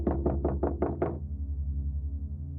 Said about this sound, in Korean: 노크 소리는 문을 두들기는 소리로